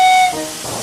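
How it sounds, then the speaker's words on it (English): Steam engine Percy gives a short bright whistle, then a loud sustained hiss of released steam, close and alone. "He blew his whistle and wheeshed lots of steam."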